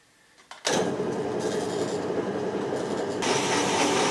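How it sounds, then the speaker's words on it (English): A hole saw bores a big center hole for a DIY plastic shredder, starting abruptly with a loud, steady grinding drone that holds for several seconds and grows slightly harsher near the end. "Now it's time for my least favorite tool, the hole saw, for that big center hole that's got to be drilled in there."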